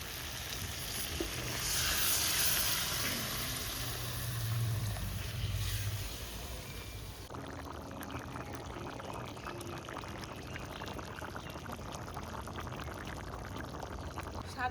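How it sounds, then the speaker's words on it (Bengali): A little water is poured into a pan of vegetarian curry made with twenty-one kinds of fresh mixed vegetables, causing a louder rushing hiss that settles into a steady sizzle and simmer. "এবার আমি অল্প পরিমাণ জল দিয়ে দেবো।"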